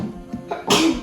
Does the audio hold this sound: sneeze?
yes